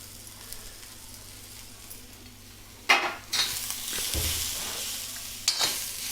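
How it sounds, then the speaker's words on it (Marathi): Grated coconut (khobra) being stirred as it fries in a pan for Malvani masala, giving a steady soft sizzle with scraping stir strokes that grow louder around the middle and recur near the end. "आता मी खोबरा घालतोय"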